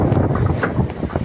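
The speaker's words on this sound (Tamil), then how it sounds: "நல்லா காற்று திசை எடுக்குது." Strong wind buffets the microphone outdoors on a farm with a constant low rumbling roar, close and loud throughout.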